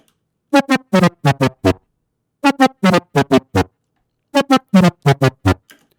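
A bright layered future house synth lead made in Serum plays a punchy staccato riff in three repeating phrases, separated by brief silences.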